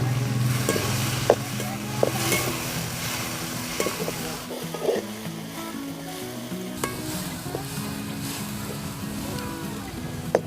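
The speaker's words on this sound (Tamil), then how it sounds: "தக்காளி நல்லா வதங்கிடுச்சு." Tomatoes and onions sauté in hot oil in a pan for a Tamil masala fish curry, giving a steady close sizzle and frying hiss, with stirring scrapes and clinks breaking through at intervals.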